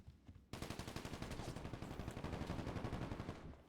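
Rapid automatic gunfire in the video game Grand Theft Auto V Online, a continuous fast rattle of evenly spaced shots that starts abruptly and holds steady for several seconds, fairly distant and moderately quiet.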